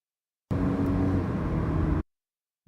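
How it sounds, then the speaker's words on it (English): Recorded car driving sound played back from a video: a short steady engine and road rumble about one and a half seconds long, which starts and stops abruptly and has silence on either side. "open the bank video so that he can hear the car"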